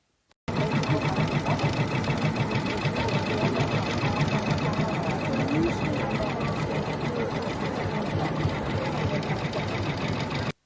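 Sewing machines run nonstop at a Brother stand in a busy craft show hall, a steady rapid mechanical whir heard up close. Crowd chatter sits under the machine noise.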